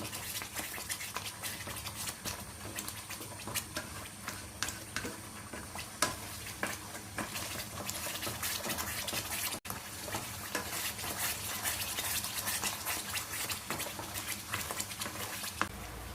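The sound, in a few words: stirring onion lehyam in a pan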